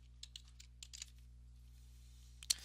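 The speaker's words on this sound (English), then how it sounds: "I can actually type in the name of the medication" Faint, close keystrokes on a computer keyboard in an irregular sequence of light clicks over a low electrical hum, ending with a slightly louder tap.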